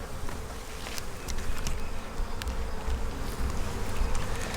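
Honeybees hum densely over a hive frame with hatching cells, a close, continuous, loud buzzing swarm sound with occasional individual bees darting nearer, no voices.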